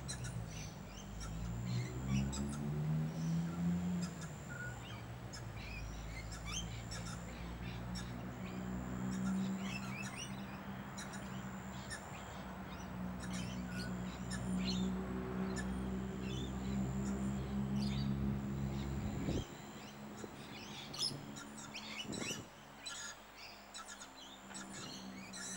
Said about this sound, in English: Beautiful birds, aren't they?